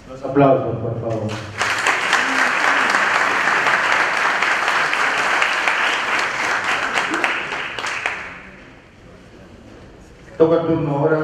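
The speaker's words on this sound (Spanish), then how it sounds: "Los aplausos, por favor." Audience applause fills a hall at a national notarial seminar in Trujillo, Peru: a loud, sustained burst of clapping for several seconds, fading out, with a speaking voice before and after.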